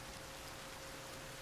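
Steady rain pours in the survival game Sons of the Forest, a dense, even hiss of drops that stays constant throughout without any talking.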